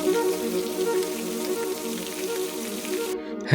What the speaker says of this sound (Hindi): बाहर तो हो रही है बहुत तेज़ बारिश